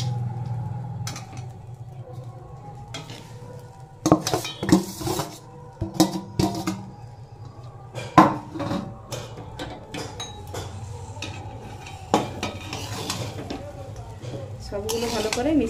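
Fried vegetables, cashews and raisins are tipped into a pan of fried rice and stirred, giving clattering spoon-on-pan scrapes and metallic clinks in irregular bursts over a low background hum, with a voice talking at times.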